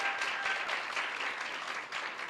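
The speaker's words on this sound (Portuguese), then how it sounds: "Uma salva de palmas" An audience claps together in a short, even burst of applause, moderately loud and steady with no voices over it.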